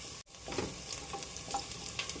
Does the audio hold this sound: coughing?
no